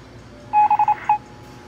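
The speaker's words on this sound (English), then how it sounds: "Is it ringing?" Telephone keypad tones as a number is dialed: a short run of five quick beeps, one long and four clipped, then a final beep after a brief pause, moderately loud over quiet background.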